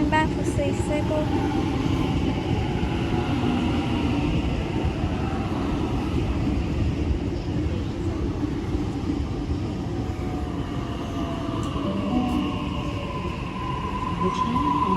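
Suburban train running into a platform at Flemington station bound for City Circle, a loud continuous rail roar with faint wheel squeal, heard under a station announcement voice.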